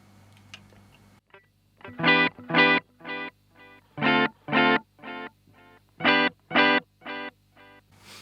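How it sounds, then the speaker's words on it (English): A guitar through a Danelectro Dan Echo delay pedal plays short phrases of repeated notes, each bouncing back as prominent, evenly spaced echoes that are nearly as loud as the original notes, with no talking. "you can have the echoes really prominent"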